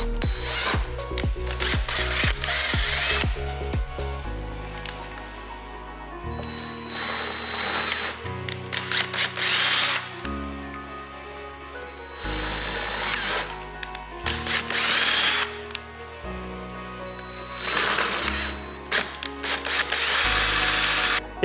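A power drill fitted with a 23/64 bit enlarges small holes in a Corvette C8 front splitter. The whine comes in several bursts separated by pauses, with rubbing and scraping between them.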